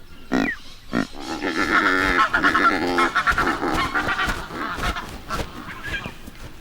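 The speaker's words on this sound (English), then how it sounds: "By midwinter, the Cape Barren goslings have hatched." Cape Barren geese in Australia honk and grunt in loud, close, repeated rough calls, several overlapping in an irregular series with no talk.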